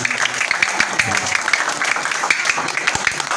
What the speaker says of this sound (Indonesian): Tepuk tangan, saya pengen tepuk tangan buat dermawan-dermawan, relawan-relawan.